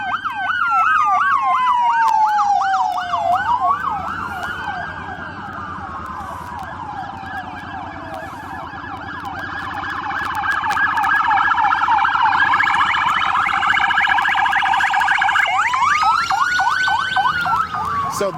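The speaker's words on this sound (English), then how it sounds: "you can hear some of these sirens" Several loud wailing ambulance and police sirens overlap, sweeping up and down and shifting in pitch as emergency vehicles pass close by after a tornado in Dayton, for a long stretch.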